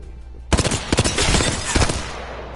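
The Hemlock burst rifle in Apex Legends fires several loud, close bursts of rapid shots in quick succession, with a short pause between volleys and a fading tail at the end.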